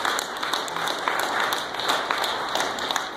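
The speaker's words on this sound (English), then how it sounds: "please give them a warm round of applause" A crowd applauding at a food expo competition, a dense steady patter of clapping throughout.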